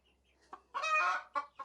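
A hen clucks near a nesting box, giving a couple of short clucks followed by a longer drawn-out cackle and a few more brief clucks, close and clear with no talk.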